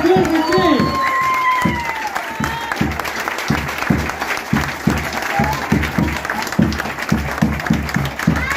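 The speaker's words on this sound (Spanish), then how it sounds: "Que se repita ese aplauso fuerte, fuerte, fuerte, sí." Audience applause at a children's zapateo performance by the Agrupación El Antiguo, steady loud clapping throughout with cheering and a voice over it, rhythmic low thumps running beneath.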